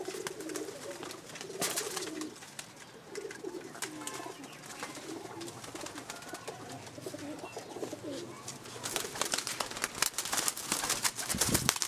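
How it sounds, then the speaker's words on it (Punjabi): Zeera breed pigeons coo steadily at home, their soft, layered calls close and continuous through a dense flock murmur with no talking. "ਇਹ ਬਾਈ ਜਾਨ ਸਾਡੇ ਘਰ ਦੇ ਜ਼ੀਰੇ ਕਬੂਤਰ ਹਨ"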